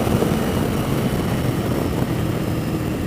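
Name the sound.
1988 Yamaha XV1100 Virago V-twin motorcycle engine at speed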